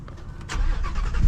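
Ford Mustang GT350 V8 cranking and firing up with the exhaust closed, a short burst of starter whir that swells into a loud, deep rumble close by.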